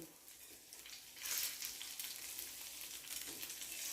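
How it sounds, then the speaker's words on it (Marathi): Moong dal aluwadi rolls shallow frying in oil in a pan, giving a soft, steady sizzle with a brief swell of crackling partway through, faint and close, no talking. "आपण कडेने साईडनं असं तेल सोडूया. आपण आता परतवून घेऊया वडी."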